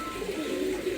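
Pigeon chicks of an Indian Madrasi breed, three-feathered, give soft continuous cooing murmurs, close and steady with no pauses and no talking.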